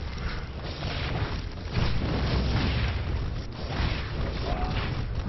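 Psionic Storm crackling over a cluster of probes in StarCraft II, a dense continuous rumble of bursts and electrical fizz with swelling peaks, loud and sustained, mixed with battle noise.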